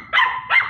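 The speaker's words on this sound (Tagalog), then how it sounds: "Napakaliligalig ng aso natin ngayon." Red female exotic bully, about ten months old, barking twice in quick succession, close and loud, with no talk over it.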